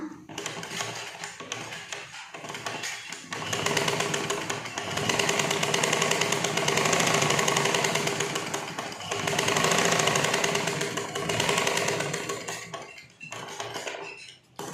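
Sewing machine running stitches along a blouse neckline through lining and main fabric, a close mechanical whirring rattle in long continuous runs with brief pauses between.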